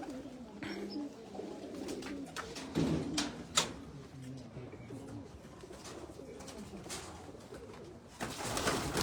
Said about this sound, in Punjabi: ਉਧਰ ਉਹ ਕਬੂਤਰ ਹੈ ਉਹ ਵੀ ਫੜ ਕੇ ਦਿਖਾਣਾ।